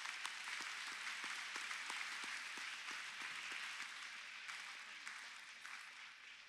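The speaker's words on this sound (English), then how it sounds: "And that deserves a round of applause right now." A crowd at a university ceremony applauds, a faint, steady wash of many hands clapping with a few sharper individual claps near the start, gradually fading toward the end.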